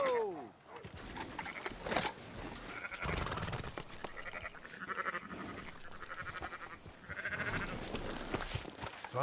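Sheep bleating in the Red Dead Redemption 2 video game: several close, wavering bleats over a noisy flock and background bustle, with some talk mixed in.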